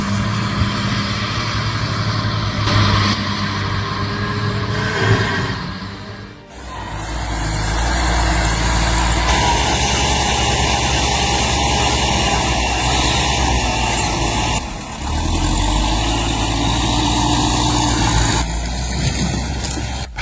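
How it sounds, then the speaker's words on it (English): An LKT-81 Turbo forestry skidder with a turbocharged diesel engine and hydrostatic drive runs loud and close, its engine droning steadily with dips and surges in the woods as it pulls. "The LKT-81 Turbo dominates forestry with its turbocharged diesel engine and hydrostatic drive, ensuring unmatched traction and pulling force"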